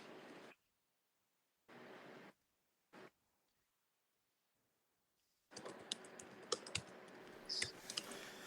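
Clicks of a computer keyboard as code is typed, first in short bursts separated by silences, then a denser run of fast keystrokes near the end, close and fairly quiet.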